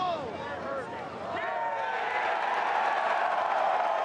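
Golf gallery at the Ryder Cup at Hazeltine erupting into a big cheer, the roar swelling and holding as a broad wash of crowd noise after a brief opening of voices.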